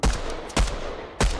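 Gunfire in the Fortnite video game, three sharp loud shots spaced about half a second apart, each with a short echoing tail, heard alone without talk.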